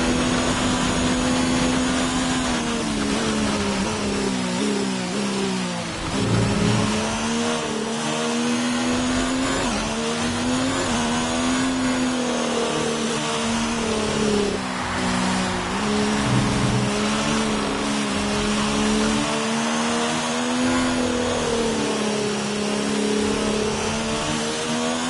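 Formula 1 car engine in F1 2019, a loud, sustained high-pitched whine that rises and falls through gear changes across the lap, continuous and close with no talk over it.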